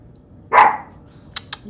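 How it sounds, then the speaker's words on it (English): A female dog gives one sharp, loud bark nearby, then a couple of faint clicks follow in an otherwise quiet room. "her barks have been so inaccurate"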